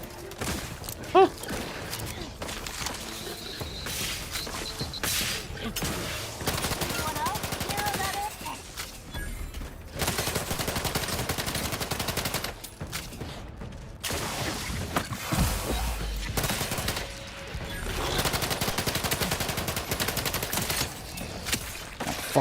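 Rapid gunfire from The Outer Worlds 2, a sci-fi shooter with a shotgun in play. Dense bursts of shots and fusillades keep up almost without a break, loud and close, over a constant game soundscape, with brief lulls and mechanical clicks between them.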